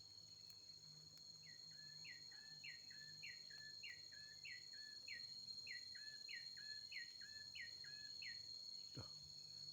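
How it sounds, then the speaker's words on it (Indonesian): A cikur bird calls in the countryside, a rapid series of about sixteen repeated chirping notes, clear and moderately near over a faint insect drone. "ada suara burung cikur"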